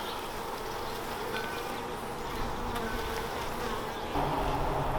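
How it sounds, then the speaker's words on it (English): Dense, steady buzzing of many honeybees close by in an open hive, a continuous insect drone that swells slightly near the end; no talking. "this is just packed with bees"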